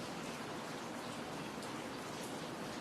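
Steady rain pours down on an audience seated outdoors at a dawn religious lecture, a dense, even hiss of drops with no gaps and no voices.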